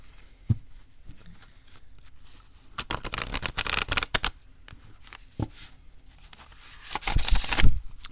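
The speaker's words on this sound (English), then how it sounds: "So let's shuffle this deck." Shuffling of The Urban Crow Oracle card deck up close: soft riffles and taps, then a longer ruffling stretch and a final loud riffle burst near the end.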